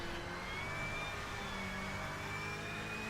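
A racing car's engine in a driving game at the Mugello circuit hums steadily with a faintly rising whine, quiet and continuous throughout, no talking.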